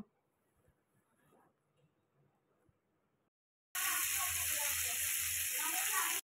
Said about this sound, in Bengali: আর টমেটো স্লাইস করে কাটা দিয়ে একটু নাড়াচাড়া দিয়ে ভালো করে ভেজে নেব 2-3 মিনিট মতো